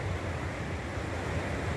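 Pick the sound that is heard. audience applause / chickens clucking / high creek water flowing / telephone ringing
high creek water flowing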